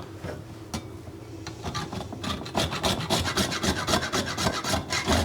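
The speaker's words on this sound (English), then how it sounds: "we're going to see how easy or how difficult it is to use these rasp style graters to grate nutmeg up" Fresh nutmeg being grated on a rasp-style grater, first a few scattered scrapes and then a rapid run of rhythmic, gritty rasping strokes, close and clear with no talk.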